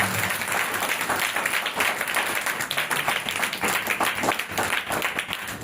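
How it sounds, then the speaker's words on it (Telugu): Steady, loud applause from a congregation clapping together at a gospel revival meeting, a dense continuous patter of many hands lasting throughout. "గట్టిగా చప్పట్లు కొట్టి విశ్వాసంతో చప్పట్లు"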